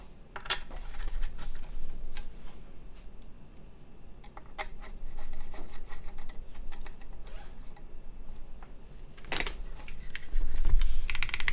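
Fingers type in uneven bursts on an assembled KBDfans Tofu60 keyboard, close-up clacking keystrokes with pauses between runs and a few louder thocks near the end; no talking.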